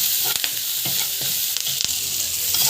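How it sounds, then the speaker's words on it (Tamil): Turmeric, asafoetida and salt sautéing in oil in a pan for mango thokku, a loud close sizzle with brisk, repeated spoon stirring and scraping, no one speaking. "பெருங்காயம், சால்ட்டு நல்லா போட்டு வதக்கிக்கோங்க"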